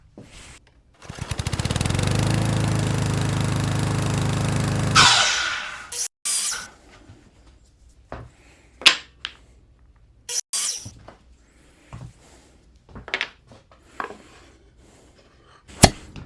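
A power miter saw cuts wood pieces to size, with one loud continuous whine of about four seconds, then a series of short knocks and clatters as the cut pieces are handled.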